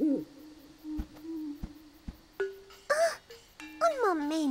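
A cartoon owl hoots in a Spanish-language children's train cartoon, a few tonal hoots and calls near and clear, mixed with short knocks and brief bright musical swells.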